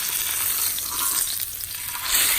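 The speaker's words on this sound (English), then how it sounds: "letting her sear about 1 minute on each side." Japanese Wagyu bone-in ribeye steak searing in a hot pan, giving a steady, close, bright sizzle that holds level throughout and swells slightly near the end.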